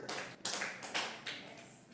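A church congregation at a Jakarta worship service claps for God, a faint, scattered round of hand claps that comes in a few loose bursts over about two seconds.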